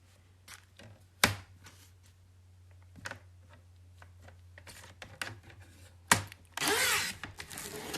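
A paper trimmer slices through diamond painting canvas in several sharp, close cuts, separated by handling sounds, ending in a longer rasping stroke.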